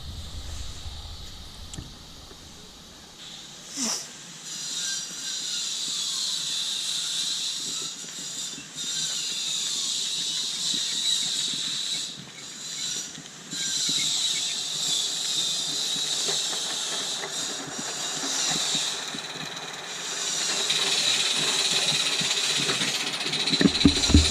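Roundhouse Silver Lady live steam model locomotive in Isle of Man green and cream, running on a garden track with steady hiss and rapid soft chuffing throughout, fairly close, with a few louder puffs and no talk.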